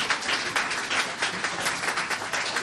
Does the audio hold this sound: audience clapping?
yes